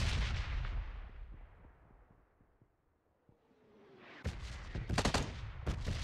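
Bombardment in a PUBG Mobile bombing zone, heard as a dense rumble of distant blasts that fades to near quiet before sharp, loud explosions crack in close, several in quick succession.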